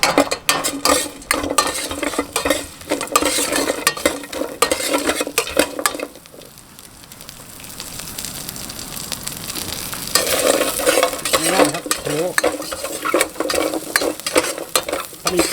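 Curry paste stir-fried in a little oil for Thai pork belly and egg palo, a loud continuous sizzle with spatula scrapes and clinks against the pan. It dips to a quieter hiss midway, then the vigorous stirring returns.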